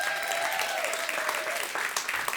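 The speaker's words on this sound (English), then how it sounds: "Give him a round of applause." Audience applause at a Climate Week gathering after a co-founder is introduced, a steady wash of clapping that carries on throughout, with a faint voice murmuring beneath it.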